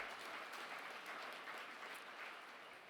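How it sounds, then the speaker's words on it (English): A dinner audience at a Twin Cities Cardozo Society annual event applauds, a faint, steady wash of clapping from a distant crowd without pause. "please give yourselves a round of applause"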